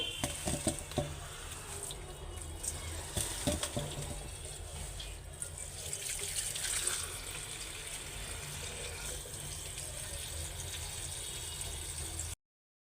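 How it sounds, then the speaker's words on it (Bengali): Tap water runs steadily into a sink while leafy greens are rinsed, a continuous soft rushing with scattered splashes and light patter from handling the leaves, fairly quiet and close, with no talk. "শাকগুলি এখন ধুয়ে নেই"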